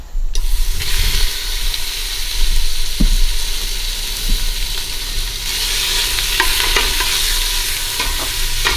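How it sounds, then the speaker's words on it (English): Bacon, a pound of it, frying and sizzling in a heated pot as it renders its fat, a loud, steady crackling hiss that runs throughout with occasional stirring scrapes and no talking. "We're going to render down that bacon to get the fat out of it"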